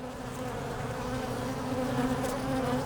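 Dense, steady buzzing of many honey bees close by at a hive entrance in a wall, a continuous droning hum with no talking.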